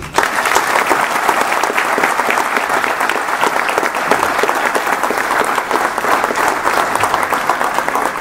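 An audience at a Science Club of Hyderabad lecture on emotions claps for the speaker, giving a long, even, loud round of many hands clapping together, steady throughout with no talk over it.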